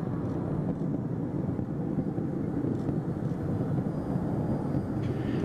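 The Space Shuttle Atlantis climbs away from Kennedy Space Center on its final mission, a continuous deep, broad roar, loud and steady for several seconds with no voices.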